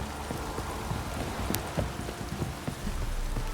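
Horse hooves clip-clopping in the video game The Witcher 3, a steady run of light, evenly spaced hoof strikes at close range over a soft background hiss, with no voices.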